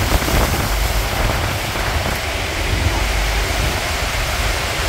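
Powerful waterfall roaring up close from a boat, a dense broadband rush of falling water and spray mixed with wind buffeting, steady and loud throughout.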